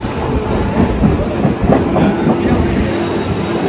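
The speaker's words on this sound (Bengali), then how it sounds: "এই হাওড়া থেকে দীঘার ইএমইউ লোকাল" A Howrah–Digha EMU local train rumbles along at close range with a steady rattling clatter of wheels on the rails, loud and continuous throughout.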